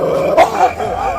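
Dog growling and snarling aggressively as it attacks, with a sharp louder burst partway through, close and continuous over the short stretch.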